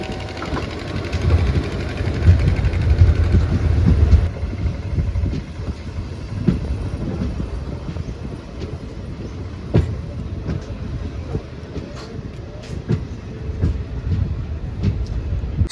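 The Khandesh Express between Dadar and Bhusawal runs steadily, its rumbling wheels and carriage noise filling the cabin with periodic clicks and clacks over a constant low roar.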